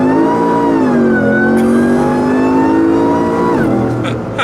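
A Ford F150 with a 5.0L V8 accelerates hard from a dig during a dyno pull, its loud engine note climbing steadily, dropping briefly at two gear changes and then rising again, close and continuous.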